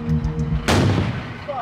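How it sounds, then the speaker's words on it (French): A single sharp explosion bursts out in a desert war zone, a sudden loud blast followed by a rumbling decay, with a brief voice just before it. "une explosion retentit."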